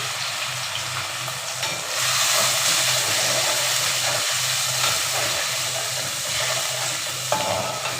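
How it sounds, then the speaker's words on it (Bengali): Onion poured into hot oil for a Bengali hilsa fish with mustard gravy sizzles loudly and continuously, with the hiss swelling after a couple of seconds and faint stirring scrapes underneath. "তেলটা আমার গরম হয়ে গেছে এই তেলে আমি পেঁয়াজটা ঢেলে দেব"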